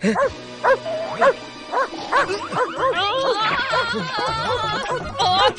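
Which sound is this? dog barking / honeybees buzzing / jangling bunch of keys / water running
dog barking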